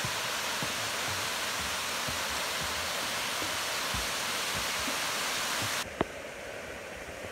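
A mountain waterfall pours in a steady, loud broadband rush that cuts off abruptly near the end, leaving a quieter background and a brief click.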